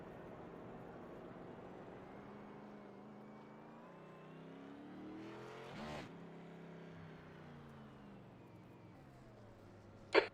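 An iRacing Xfinity Series car at Circuit of the Americas approaches and crosses the start-finish line, its engine tone rising and falling in a faint passing whine that ends in a brief loud burst.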